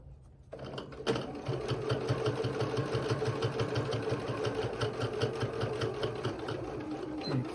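A sewing machine runs steadily while stitching a snap tutorial piece, its rapid even needle clatter starting after a short pause and continuing close and moderately loud throughout.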